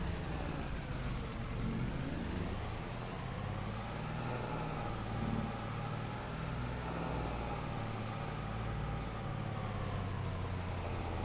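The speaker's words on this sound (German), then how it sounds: "Guck mal, da kommen, das ist ein Häcksler." Forage harvester driving along a country road, a low rumbling engine drone with a slowly shifting pitch, steady and moderately close throughout, with no voices over it.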